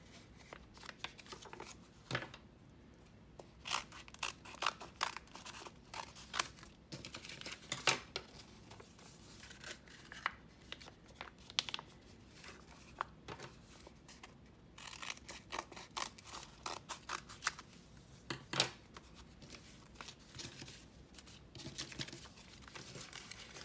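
Scissors snip through folded paper for flip books, a quiet close series of irregular crisp cuts with paper rustling between them.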